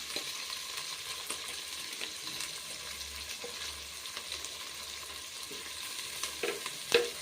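Four large tomatoes fry and sizzle in a pan for a North Karnataka borugula vagarni, a soft continuous crackle with occasional stirring scrapes and clinks of a spoon, fairly quiet and close.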